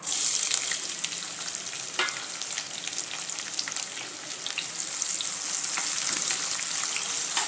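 Onion sizzles steadily in hot ghee with whole spices and cashews, a loud, close, continuous frying hiss with scattered crackles and a sharp pop near the two-second mark; no one speaks.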